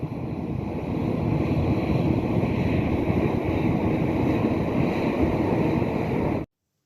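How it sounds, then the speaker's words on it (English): Twin GEnx-1B jet engines running at startup on an airport apron, a steady, loud broadband roar with heavy wind-like rumble that holds constant for about six seconds before cutting off abruptly. "I hope you enjoyed the engine startup footage"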